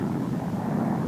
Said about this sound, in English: An airplane without wings, the lifting body